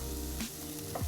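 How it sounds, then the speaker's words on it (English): Onions frying in olive oil for chicken lettuce wraps, a short burst of steady sizzle with a couple of faint stirring scrapes. "And dump in the onions. There you go. Stir those around for about 3 or 4 minutes so they start getting clear."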